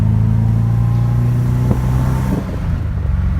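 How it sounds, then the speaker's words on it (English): A BMW E34's engine idles roughly, loud and close, with a steady low drone; near the end the RPMs drop and the idle falters with uneven sputters as the car dies and backfires. "Is when the idle, the RPMs drop, it dies, and now it's backfiring."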